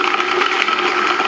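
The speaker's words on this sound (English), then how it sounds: "And now it's time to blend." Blender whirring steadily and loudly as it blends a thick smoothie of frozen fruit and almond milk, a dense, grinding motor noise with no pauses.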